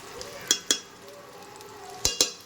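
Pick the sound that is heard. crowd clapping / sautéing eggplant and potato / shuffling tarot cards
sautéing eggplant and potato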